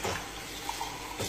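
Water runs from a kitchen tap in a home kitchen, a soft steady splashing hiss heard close but fairly quiet throughout the brief moment, with no talk over it.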